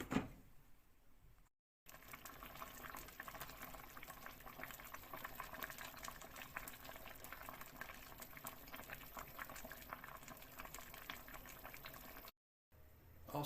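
Jamaican stew peas simmering in a pot, a soft continuous bubbling and popping that stays steady throughout, close but faint, with a brief dropout near each end and no talk.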